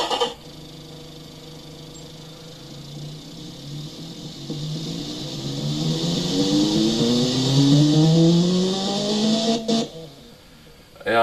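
A four-cylinder car engine with short-cast headers and a high-flow three-way exhaust revs in a car design video game, climbing steadily in pitch over several seconds before cutting off near the end, loud and alone.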